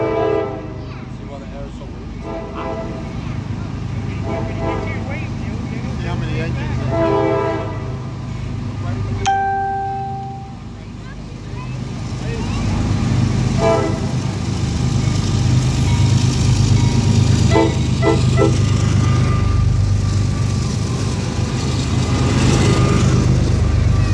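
Train passing close by with a loud steady rumble, a short horn blast sounding partway through as the rolling noise of the railcars continues.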